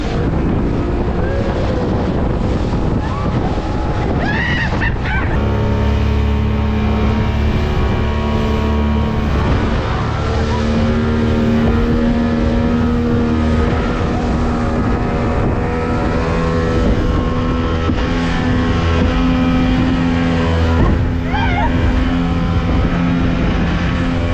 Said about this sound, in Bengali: স্পিড বোটে চাপছি ঋষিকোন্ডা বিচে।